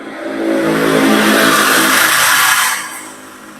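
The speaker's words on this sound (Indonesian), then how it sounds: "Ini motor nih." Motor vehicle engine, likely a motorcycle, passing close by, revving as it approaches, peaking loudly, then fading as it moves away, with no talking over it.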